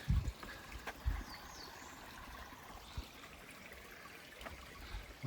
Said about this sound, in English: Do our first creek crossing of the morning.